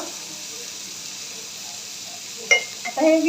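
Chopped tomato goes into frying onions in a pan, giving a faint steady sizzle and hiss before a brief louder clatter and a short spoken phrase near the end.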